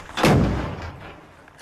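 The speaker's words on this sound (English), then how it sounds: "Stand by for another frag. Frag out!" A frag grenade blasts in a combat setting. It lands as one loud, sharp boom, and a rumbling tail fades over about a second.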